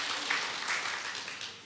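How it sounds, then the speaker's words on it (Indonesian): A congregation applauds for Jesus during a church anniversary worship service, a steady wash of clapping lasting the whole short moment at moderate, somewhat distant level. "Kasih tepuk tangan kepada Tuhan Yesus"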